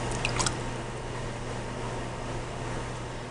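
Wet clay handle being squeezed and pulled down with water on a pottery piece, a steady soft wet squishing and dripping texture over a constant low hum, with a few brief clicks near the start.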